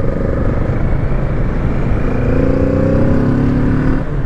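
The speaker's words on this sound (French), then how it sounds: "en plus du bruit d'échappement qui est sympa, il est sec mais sympa, on a un petit bruit de moteur" A Kawasaki Z650 motorcycle's engine and exhaust drone steadily while riding, loud and close, with a dry exhaust note and a rising engine tone midway, alone without talk.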